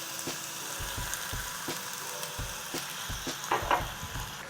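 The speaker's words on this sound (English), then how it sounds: "pop that top open, and literally straight out of the bottle, go straight in the pan" Bourbon sauce poured straight from the bottle into a hot pan for bourbon chicken, a faint steady sizzle with a few soft knocks and a brief bubbling burst near the end, quiet and close.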